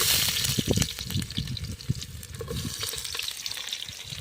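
Onions dropped into hot oil in a village kitchen for a chicken feast, a dense close sizzle with uneven crackling bursts and bubbling, loud and steady with no talk.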